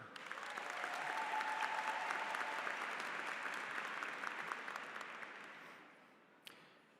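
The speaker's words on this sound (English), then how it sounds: "always gets the loudest applause" Loud, sustained applause from a large crowd at a high school graduation ceremony, swelling quickly and holding steady for several seconds before thinning out toward the end.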